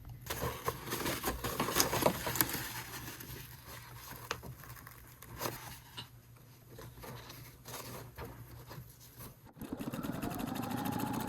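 A Pfaff sewing machine stitches a quilt block for a rail fence pattern, a steady mechanical whir with rapid needle ticking running near and continuous, briefly pausing before resuming at the end.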